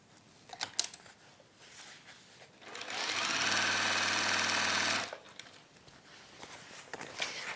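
A sewing machine stitches a waxed warmer in a steady, fast burst of needle whirring for about two seconds, close and loud, with quieter workshop handling sounds before and after.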